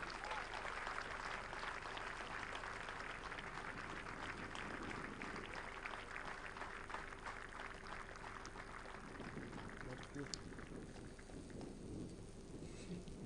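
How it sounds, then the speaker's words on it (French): Crowd applause at the official unveiling ceremony of the Amazone monument in Benin, a broad, continuous patter of many hands heard from some distance, with a steady hum underneath. "Cela s'applaudit."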